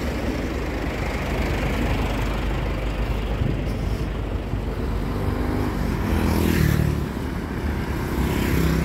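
Motorcycles and other traffic pass along a busy street in Juazeiro do Norte, Brazil, a continuous engine rumble from nearby vehicles that swells briefly as one goes by near the end.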